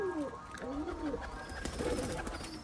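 Pigeons give repeated soft, rolling coos over a low ambient hum. The calls come in several short phrases from close by and are fairly quiet.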